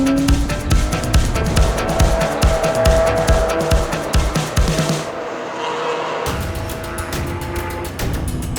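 A race car in a 24 Hours of LeMons endurance race pushes hard through traffic, its engine revving in rapid gear-shift bursts with tire squeal, then easing off briefly before pulling hard again.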